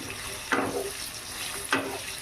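Young jackfruit fries with a little salt in a pan under a steady, close sizzle, broken by two brief stirring scrapes.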